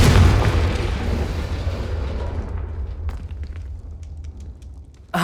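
A Confringo spell blasts in the video game Hogwarts Legacy, a loud booming explosion that starts with a heavy rumble and fades over several seconds into crackling debris.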